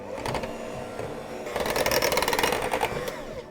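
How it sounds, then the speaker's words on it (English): Whipped cream mixture for an eggless tiramisu being given a quick mix, a steady mechanical whirr that grows louder and more rhythmic halfway through, close and without speech. "I'm just going to give it a quick mix to mix it up."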